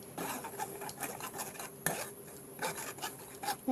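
Tomatoes being pushed and stirred through a metal sieve for homemade tomato sauce, giving a steady close-up scraping and rasping with light clinks of utensil against metal, briefly louder near the end.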